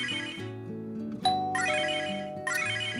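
A phone rings with a bright electronic melodic ringtone, clear and close, its repeating pattern of tones continuing without a break.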